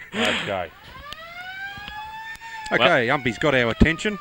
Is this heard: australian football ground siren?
yes